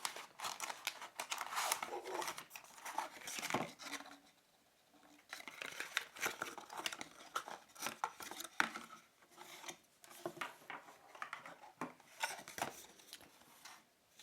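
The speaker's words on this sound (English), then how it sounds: "let's go ahead and pop the mouse out from its box." A Havit HV-MS735 gaming mouse is lifted out of its box with foam padding and a paper tray, making close, quiet rustling, scraping and crinkling handling noises in uneven bursts with no talking.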